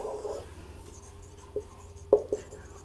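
A pen or marker writes during a maths lesson, giving a few faint scratchy strokes and light taps at uneven intervals against a quiet room.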